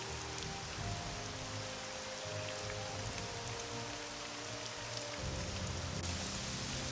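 Steady rain in the Morrowind video game, a continuous dense patter and hiss throughout with a low droning ambience beneath, no voices.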